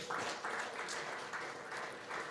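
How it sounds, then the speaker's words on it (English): Applause from the audience at a CEO and HR directors' forum, a steady wash of clapping from a large crowd, fairly quiet and unbroken for a couple of seconds. "I think you all deserve a round of applause for yourselves"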